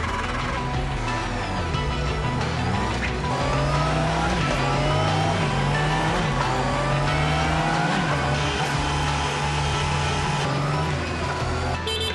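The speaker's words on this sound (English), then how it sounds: "each finished motorcycle is fired up for the first time and ridden onto a special test platform" A finished Honda CBR motorcycle runs on a final-inspection test platform, its engine droning loud and continuous with rising and falling revs over a steady mechanical hum.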